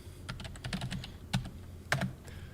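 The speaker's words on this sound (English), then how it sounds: "You're going to type in SolidWorks." Someone types on a computer keyboard, several quick close key presses in small bursts with a couple of heavier taps, fairly quiet and with no speech.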